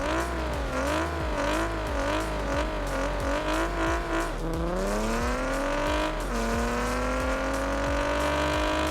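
Car engine in Car Parking Multiplayer revving hard and steadily, with rising and falling pitch sweeps as it climbs through gears; loud, close and continuous, with no talk.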